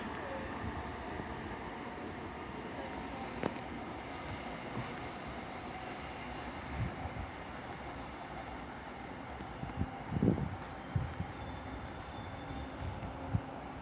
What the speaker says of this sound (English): coming in now is the 1742 service to London Paddington, originating Bristol Temple Meads